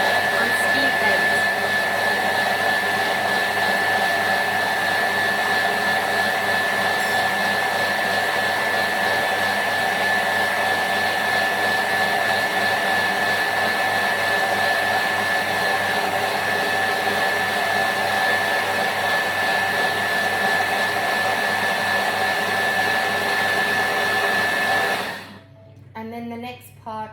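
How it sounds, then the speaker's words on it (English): Thermomix running at blend speed to purée a jalfrezi tomato sauce, a loud steady high-pitched motor whine that holds unbroken for about 25 seconds before abruptly stopping. "add our lid onto that, and then just blend that for 30 seconds"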